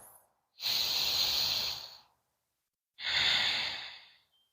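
Two slow, deep breaths during a yoga tree pose, each a long airy hiss lasting over a second, close and quiet, separated by a stretch of near silence.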